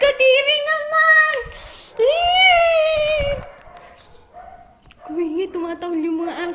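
Dogs yowl and whine in long, high, drawn-out howling cries, several loud bursts separated by short pauses, close to the microphone with no speech.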